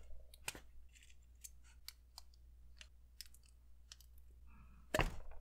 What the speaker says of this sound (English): Cut the rings off both HGG grips.